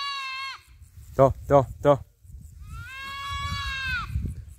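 A young female goat bleats loudly in a fresh green pasture, two drawn-out bleats with a brief burst of nearby speech between them, over light outdoor background noise.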